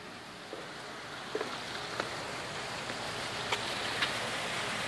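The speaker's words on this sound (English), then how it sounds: "Two water features, kind of give you some white noise." Steady soft water splash from two water features beside a residential pool, a continuous faint wash with a few light drip-like ticks, heard from a distance and with no talking.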